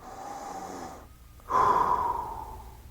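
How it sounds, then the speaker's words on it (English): A single deep breath drawn in close to the microphone, a soft inhale followed by a brief pause and a louder, longer airy exhale. "I'm gonna take a deep breath for a second"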